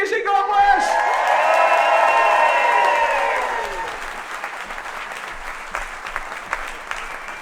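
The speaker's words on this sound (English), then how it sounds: "Give yourself a round of applause, everybody." Live podcast audience at a Glaswegians Anonymous show bursting into loud applause with cheers and whoops, strong at first and then easing into thinner clapping, with a voice speaking over the opening.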